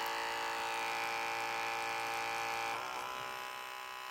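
A small gravity-fed pump hums with a steady electric buzz that shifts slightly lower and quieter near the end, close by with no talking.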